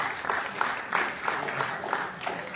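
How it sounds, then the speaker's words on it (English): Audience at the Guns Down Life Up Safe Summer summit at Lincoln Hospital in the Bronx claps for a panel of survivors, parents and family members who lost loved ones, a brief burst of steady, slightly rhythmic applause. "Can we please give them a round of applause for being here?"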